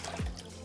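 Five cups of water poured into a cooking pot for boiling tapioca pearls, heard as one short, soft splashing gush that fades quickly.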